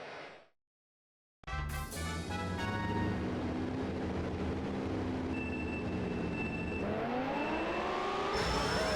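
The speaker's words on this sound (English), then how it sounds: "Oh, even changes out the motor sound." Kart engine motor sound in the Mario Kart Wii video game, a loud, continuous buzzing drone with rising pitch sweeps as the kart accelerates, following a brief silence.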